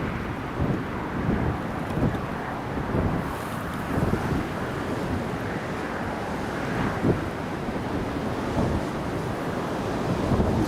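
Strong gusts buffet the microphone at a windy airport, a steady broad roar with rising and falling surges throughout and no voices.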